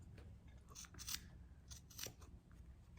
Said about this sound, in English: you're gonna take one of your squares and you're gonna cut right through all the layers